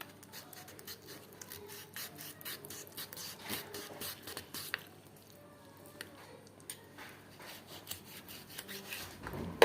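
A knife cuts chicken wings in half on a kitchen countertop, making soft irregular rubbing and scraping sounds with occasional light thuds against the surface, fairly quiet throughout.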